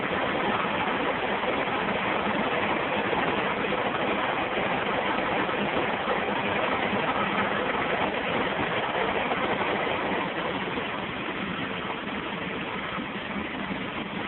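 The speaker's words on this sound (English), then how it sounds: "That compressor is still running." An air-conditioning compressor runs steadily as system pressure builds, giving an unbroken dull mechanical drone and rushing hum with no talk.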